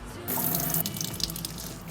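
Tap water runs steadily into a kitchen sink while a pot is rinsed clean after soaking in soy sauce and water, a continuous close splashing stream with faint clinks and no voices.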